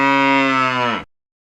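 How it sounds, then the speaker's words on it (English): A single cow moos loudly and close for about a second, a rich harmonic bellow that cuts off cleanly into silence, set within a children's animal sound quiz. "Cow."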